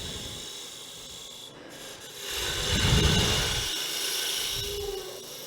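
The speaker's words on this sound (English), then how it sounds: "we probably want some Yorkshire grit on this too, right? To make a nice finished piece" Yorkshire grit abrasive paste rubbed against a spinning woodturned goblet of quilted wood on a lathe, a coarse rasping friction that swells mid-way and then settles into a steady scratchy hiss.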